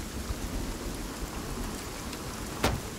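Steady rain pours in the forest of the survival video game Sons of the Forest, a dense even hiss with a brief sharp crackle near the end.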